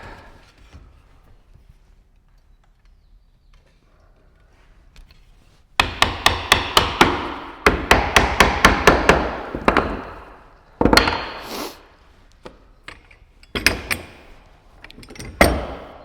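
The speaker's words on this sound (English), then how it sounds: "Give it a tap with a wooden hammer." After a few quiet seconds, a wooden mallet raps on a wooden nightstand web frame during assembly in quick bursts of sharp knocks, pausing between clusters.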